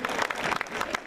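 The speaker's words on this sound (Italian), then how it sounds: "facciamo un applauso ancora a Willy" A brief burst of audience applause for the singer Willy at a local singing event, clapping close and steady with voices under it.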